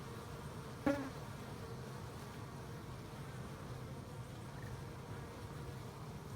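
Calm bees, including a Carnelian queen, humming steadily around a hive from a cutout, a soft continuous buzz close by, with one brief louder buzz as a bee passes near early on.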